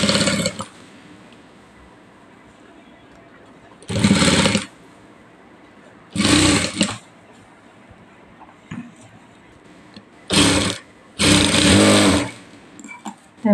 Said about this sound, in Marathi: आपल्याला इथे मधोमध बघा एक शिलाई टाकून घ्यायची आहे